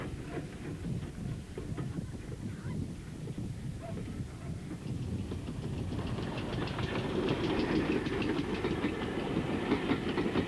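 A pannier tank steam locomotive running beside the sea toward Blue Anchor: steady rumble with rhythmic clickety-clack of wheels on rail joints, growing slightly louder and brighter midway, no voices.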